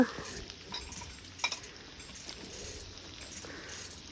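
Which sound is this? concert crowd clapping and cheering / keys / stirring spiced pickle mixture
stirring spiced pickle mixture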